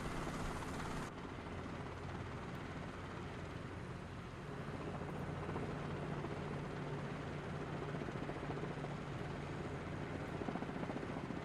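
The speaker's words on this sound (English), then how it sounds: "this is not even a powerful helicopter at all, but it can do some crazy stuff because it's so light" A light helicopter in Microsoft Flight Simulator VR, its rotor and engine drone steady and close throughout, a continuous low thrum with a faint high whine, no talking over it.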